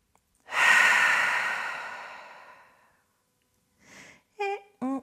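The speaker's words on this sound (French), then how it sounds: "grande expiration par la bouche" One long, deep exhale through the mouth during a yoga session, a loud breathy rush that fades over a couple of seconds. A short breath and a few voiced sounds follow.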